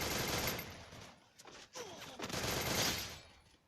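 Gunfire in a shooter video game, dense bursts of rapid shots filling most of the moment, with a short lull in the middle before the firing picks up again, loud and close.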